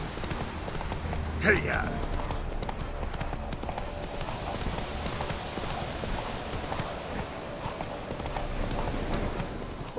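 Horse hooves clip-clopping at a gallop in The Witcher 3, a rapid continuous drumming close by, with a brief shout from a rider over it and a snort or whinny near the start.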